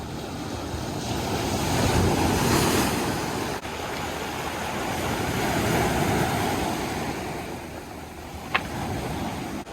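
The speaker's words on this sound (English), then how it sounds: "The waves here are crazy." Ocean waves surge and break on the rocky Cape Breton shore in Nova Scotia, a broad washing roar that swells and eases twice, with wind buffeting the microphone and a brief sharp knock near the end.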